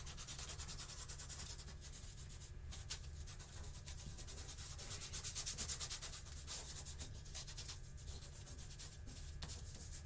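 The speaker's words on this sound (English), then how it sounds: "Go ahead and rub in your background." Chalk rubbed steadily into the background of a sunflower drawing on paper, a continuous soft scratchy rubbing in quick back-and-forth strokes, faint and close with no talk.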